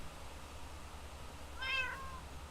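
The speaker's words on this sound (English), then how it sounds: "there is now a cat in this room" A cat meows once indoors in a room, a short, fairly faint cry that rises out of a quiet background hum with no talking.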